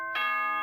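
A school announcement chime from the Danganronpa video game sounds once as a clear, sustained bell-like tone after a brief silence, heard alone.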